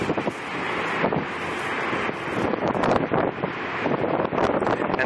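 Strong wind roars over Lake Michigan, heard from a Chicago high-rise, with whitecapped waves below. Loud gusty rumble and buffeting against the microphone fill the whole stretch without a break, and no voices come through.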